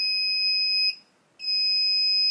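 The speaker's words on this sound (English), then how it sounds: "The remote control beeps twice to confirm that it's now programmed." A FieldTech Traplink Pro skeet remote control for clay traps gives two loud, piercing, steady electronic tones, each about a second long, separated by a short gap.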